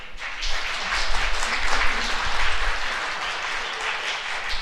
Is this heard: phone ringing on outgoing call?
no